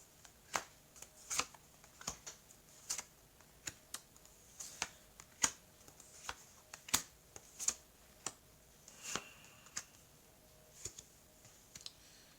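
Tarot cards are laid out one by one for a reading, making soft close slaps and flicks at an uneven pace, roughly one a second, over a quiet room.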